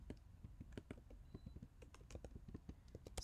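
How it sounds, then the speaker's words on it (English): Fingers type quickly on a computer keyboard while entering text into a Canva logo design, an irregular stream of soft, close key clicks that is fairly quiet and has no talk over it. "let's type that in here."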